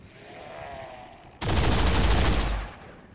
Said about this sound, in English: Under suppression fire!